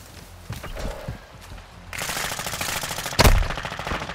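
Rapid automatic gunfire rattles in a tactical rifle shooter game during a hardpoint match, starting with scattered bursts and then building into a dense, loud stream of shots with one sharp, heavy blast near the end.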